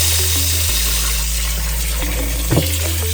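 Water pours from a tap into a sink to rinse liver for a garlic sauce stew, a loud steady gushing stream with a low droning hum and a brief splashy burst near the end, no one speaking.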